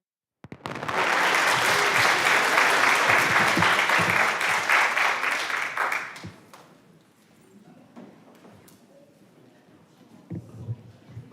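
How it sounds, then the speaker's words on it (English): Audience applause for a preschool and kindergarten performance of The Napping House at St. Mark, a dense burst of clapping lasting about six seconds before fading to quiet room noise with a few faint knocks. "Give them a round of applause."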